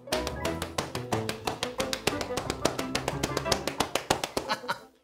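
Preschool children and a leader pat their legs to imitate rain, producing a rapid, fairly regular series of soft slapping taps that swell and fade over several seconds, a group imitation rather than real rainfall.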